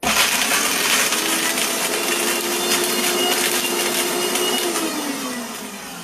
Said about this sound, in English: I'm concentrating on not wrecking my blender